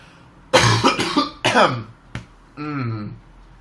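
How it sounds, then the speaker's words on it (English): A voice talks briefly, then a short sharp cough breaks in, followed by a drawn-out vocal sound; close and fairly loud. "I'm going to cough"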